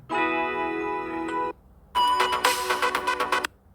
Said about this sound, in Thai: ผมจะใช้เสียงเรียกเข้าใหม่